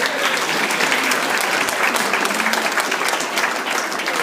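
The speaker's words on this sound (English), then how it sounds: "A tepid, obligatory round of applause for this collection of animals" Wedding guests applaud in a dense, steady round of clapping from a sizeable crowd, close and loud, holding at an even level for a few seconds.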